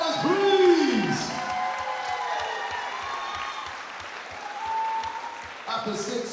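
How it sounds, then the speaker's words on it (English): Applause from the crowd at a professional boxing show in Swindon follows the fighters' bout, a steady wash of clapping and some cheering that holds for several seconds and then fades, with a voice briefly heard near the start. "can I have a big round of applause for my fighters, please?"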